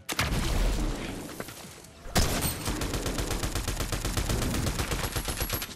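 Rapid automatic gunfire in a Fortnite match, a dense sustained burst of rattling shots at fast even rhythm after an earlier scattered volley, loud and close with a sharp crack near the break, no voices.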